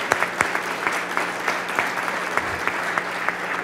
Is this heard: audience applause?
yes